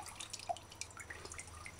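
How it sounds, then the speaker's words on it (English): Coconut water from a cracked coconut drips into a cup, giving faint, scattered small drips and trickles against quiet room noise. "Then hold it over a cup and remove coconut water."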